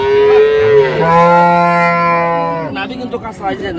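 A single loud, drawn-out moo from a dairy cow close by at a cattle market, lasting a couple of seconds, followed by some quieter shuffling noise.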